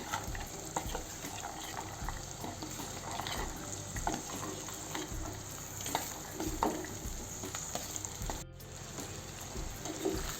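Ivy gourd (tondli) tossed into a hot pan fries with a low, continuous crackle, broken by light scraping and stirring knocks, all fairly quiet and close.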